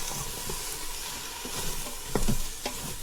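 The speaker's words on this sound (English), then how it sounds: "In goes the cabbage. In go the green onions. We're gonna mix it up." Cabbage, shiitake mushrooms and green onions are stirred in a hot Instant Pot, producing a close, loud sizzle with scraping stir strokes and a brief louder hiss near the end.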